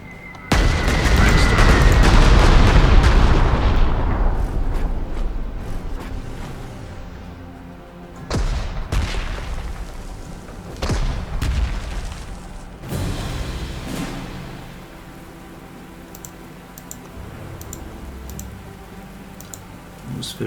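Bombing run explosions in the strategy game Panzer Corps 2, a heavy loud boom that rumbles and fades, followed by several sharper, quieter blasts and thuds spaced across the scene.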